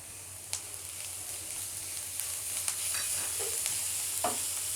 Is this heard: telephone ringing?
no